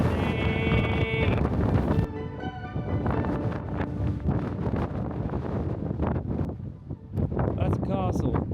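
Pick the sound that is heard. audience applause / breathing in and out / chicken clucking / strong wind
strong wind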